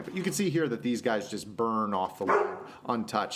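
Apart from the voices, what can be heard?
dog barking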